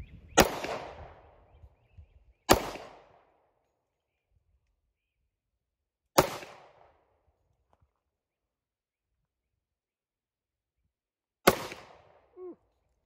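Four sharp, loud reports from an RIA 10mm pistol ring out at irregular intervals, each followed by a short decay and long silence in between.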